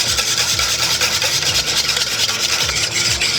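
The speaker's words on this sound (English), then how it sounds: "We're going to whisk this, and then we're going to slowly add our oil to emulsify." Salt and pepper are whisked into a vinaigrette in a bowl, making continuous rapid scraping and rubbing with a steady rhythmic swish. The close, fairly loud whisking is heard alone, without talk.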